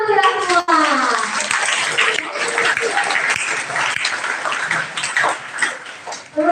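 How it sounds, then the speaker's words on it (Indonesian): A group of Catholic teenagers at a confirmation youth retreat bursts into loud, dense clapping that runs for several seconds, mixed with cheering and excited young voices. "Oke, tepuk tangan kita semua."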